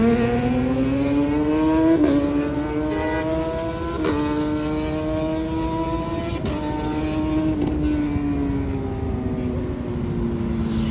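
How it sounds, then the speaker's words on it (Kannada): Motorcycles at a highway toll plaza rev and pass, a continuous engine drone rising and falling in pitch with several throttle bursts, loud and close with no talk. "ಸಡನ್ ಆಗಿ ಬೈಕ್ ಸೌಂಡ್ಸ್ ಕೇಳೋಷ್ಟರಲ್ಲಿ ಒಂಥರ ಫುಲ್ ಗಾಬರಿ ಆಗೋಯ್ತು"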